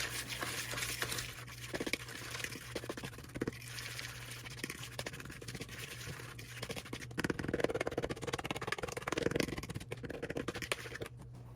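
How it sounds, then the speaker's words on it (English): Vanilla is stirred into cookie batter in a bowl, giving a steady close scraping and stirring texture throughout with a denser patch of mixing toward the end. "now I'm just gonna mix that in"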